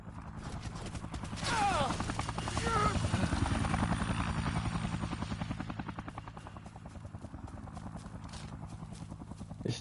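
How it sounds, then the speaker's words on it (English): A helicopter in the video game Dead Rising Remastered gives off a rapid, steady rotor chop that swells and fades a little, heard at moderate level through game sound with some faint voice. "Let's try taking down this helicopter."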